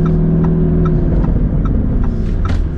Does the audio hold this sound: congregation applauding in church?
no